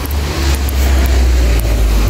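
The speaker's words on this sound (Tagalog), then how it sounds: "O, may sasakyan." A car passes by on a residential road, its engine and tire rumble loud and close in a steady roar that fills the moment.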